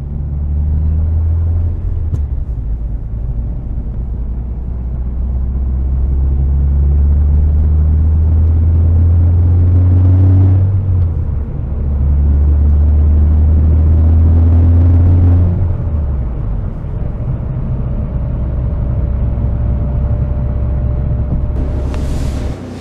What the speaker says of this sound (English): So now we're gonna drive for a bit and let the car adapt.